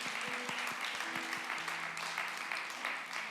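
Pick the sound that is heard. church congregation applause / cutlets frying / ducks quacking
church congregation applause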